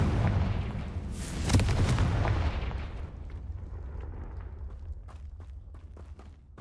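Confringo fire spell blast in the game Hogwarts Legacy: a loud, booming explosion with a rolling, crackling burst that peaks early, then decays into a long fading rumble with scattered small pops.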